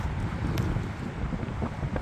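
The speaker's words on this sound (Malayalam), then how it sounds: "മഴയുണ്ട്, അതേണക്ക് തന്നെ തണുത്ത കാറ്റുമുണ്ട്" Cold wind blowing outside a courier truck parked on a rainy day of about 10 degrees, a steady low rumbling buffet against the microphone with faint rustle, continuous and fairly close.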